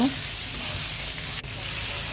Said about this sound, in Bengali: একটু মশলাটা ভাজা ভাজা হয়ে গেলে আলুটা দিয়ে দিলাম। আলুটা একটু নেড়ে চেড়ে নেব।